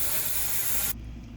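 A spray bottle of cleaner hisses in one steady, close burst for about a second, then stops abruptly, leaving only faint room noise.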